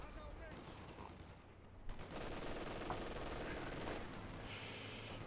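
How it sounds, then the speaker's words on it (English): Machine-gun fire from an MG42 in Company of Heroes 2, a steady rattling fusillade from a set-up position, running continuously at moderate level with brief speech under it. "MG42 set up here in a lovely position"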